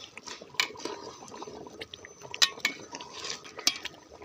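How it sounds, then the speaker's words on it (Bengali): A spoon stirs hilsa pulao in a pot, giving soft scraping and scattered light metallic clinks at an uneven pace, close and fairly quiet. "একটু নাড়া দিয়ে দিলাম"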